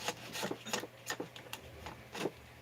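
A razor blade scraping the crankcase of a Husqvarna 390XP chainsaw, making soft, rhythmic rasping strokes about twice per second, close and quiet with no talking.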